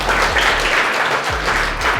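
Applause for a student quiz contestant at a school competition, loud continuous clapping from a close crowd with a low hum underneath.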